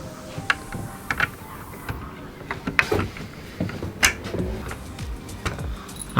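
Screws driven in one by one around a Dometic Mini Heki Plus skylight frame in a camper van build, giving intermittent clicks, creaks and tool scrapes at close range with scattered handling noise.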